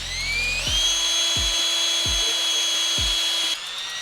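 A power drill spins steadily to wind fishing line off a reel, a high whining hum that holds for several seconds while faint rhythmic ticks repeat underneath, before the pitch shifts near the end.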